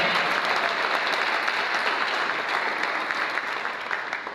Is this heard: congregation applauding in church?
yes